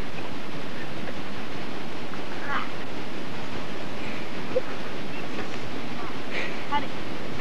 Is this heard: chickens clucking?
no